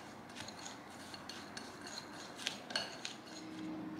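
Cinnamon, flour and melted unsalted butter being stirred together in a bowl, giving soft scraping and light clinks of a utensil against the bowl, faint and close, with no talking.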